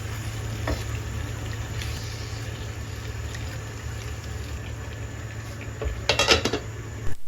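Chicken curry is stirred in a pot, a low steady simmering hiss with occasional utensil clinks and a cluster of metallic scrapes against the pot near the end.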